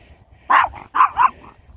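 A dog barks three times in quick succession, loud and close, during an evening walk outdoors. The barks are sharp, and the last two come nearly back to back.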